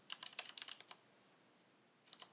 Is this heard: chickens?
no